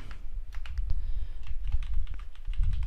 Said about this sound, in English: So you type your email to your client